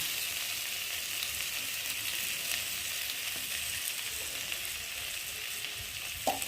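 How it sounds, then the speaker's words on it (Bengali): Fried prawns sizzle in spiced masala in a pan, a dense continuous hiss of hot oil with a few faint clinks near the end, steady and close, without speech. "এবার দিয়ে দেবো ভেজে রাখা চিংড়ি"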